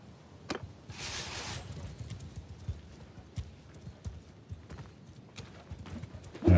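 Hoofbeats clatter in a steady rhythm through a busy battle din in a Warhammer mod game, with a brief whinny and scattered impacts around them.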